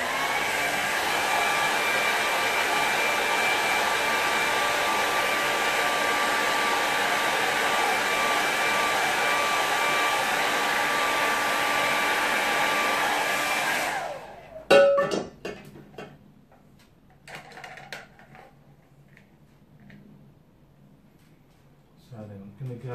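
A handheld hair dryer blows steadily and loudly on a watercolour painting for about fourteen seconds, then cuts off abruptly, leaving quieter scattered handling and tapping sounds.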